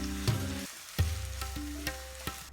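Thinly sliced onions frying in oil in a pan, a steady close sizzle with several sharp clinks and taps of a spoon against the pan punctuating it, under a faint tonal hum.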